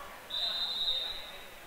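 A referee's whistle at a high school girls' basketball tournament game, one sustained shrill blast lasting nearly a second over faint gym crowd noise.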